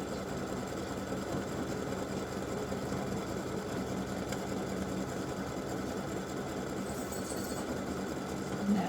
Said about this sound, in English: So it's doing that satin stitching on the inside open part.